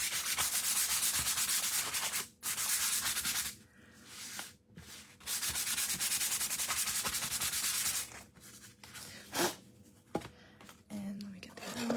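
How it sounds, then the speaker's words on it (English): Painted wooden eggs being sanded by hand, producing loud, close, raspy scratching strokes in several long runs broken by brief pauses. A person speaks at times over the sanding. "we are going to sand our"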